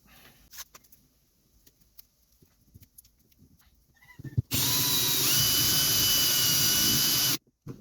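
An electric drill running forward on a 1950s Swiss Monti Super spinning reel under restoration whirs loud and steady for about three seconds after quiet handling noises, then cuts off abruptly.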